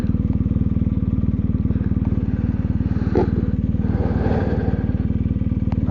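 A BMW R 1250 GS motorcycle rides up the Wrynose Pass mountain road, its engine a steady, loud, close pulsing thrum with light clatter from the road.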